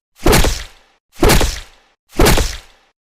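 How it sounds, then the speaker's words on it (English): Three heavy, dull thuds land at even intervals, each a loud blunt impact that fades quickly into silence. "Hiroshi swung the steel pipe, smashing Jack's head."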